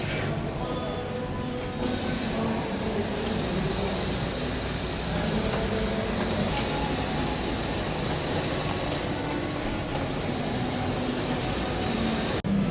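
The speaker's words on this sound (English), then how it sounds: "So this machine is where the flaps for the pockets are manufactured." A textile factory machine making blazer pocket flaps runs with a steady, dense mechanical whir and hum that stays even and continuous throughout, with no talk heard.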